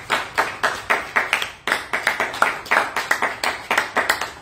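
A church congregation claps together in a quick, even rhythm to acclaim Jesus Christ, the loud, close claps repeating steadily with a brief pause partway through.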